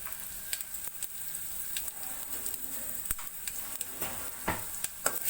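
Onions frying in a pan with mustard seeds, a dried red chilli and cumin, a soft continuous sizzle broken by occasional light spatula scrapes and clicks, fairly faint and close.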